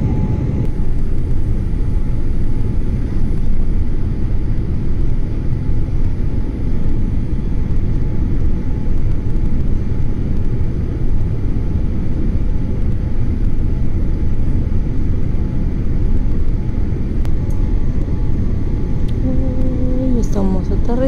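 Steady loud roar of an Aeromexico Boeing 787-8 Dreamliner landing in Tokyo after a long-haul flight from Mexico City, continuous engine and airframe rumble heard from inside the cabin, unbroken for the whole stretch.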